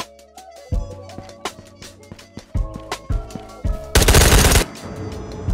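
Gunfire in the VR video game Ghosts of Tabor, loud close single shots and a dense rapid burst near the end, over game sounds.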